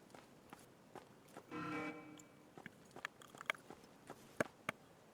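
Soft scattered footsteps and small clicks in the video game Last Man Standing, with a brief louder scrape or rustle in the middle, quiet and fairly close.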